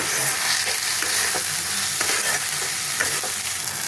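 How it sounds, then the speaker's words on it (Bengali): Chili powder and cumin powder sautéing in oil in a pan, a dense continuous sizzle with regular scraping strokes of a spoon stirring the spices, close and steady. "জিরে গুঁড়ো 1 চামচ দিয়ে এটাকে ভালো করে মশলাটা কষিয়ে নেব।"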